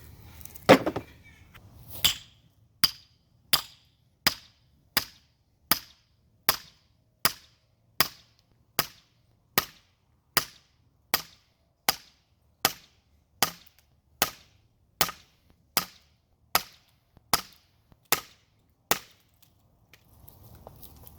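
Steady series of sharp, loud strikes as a hammer drives a wood grenade splitting wedge into a log outdoors, about one hit per second and a half, roughly twenty blows in a regular rhythm.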